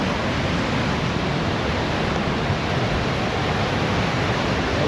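Constant heavy rush of falling water at Someshwar waterfall, Nashik, a dense, unbroken roar that stays even in loudness from start to finish.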